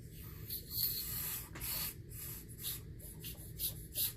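Air blown by mouth through the pulse port of a McCulloch CP125 engine being rebuilt, giving soft, uneven hissy puffs repeating through the clip, close up and fairly quiet.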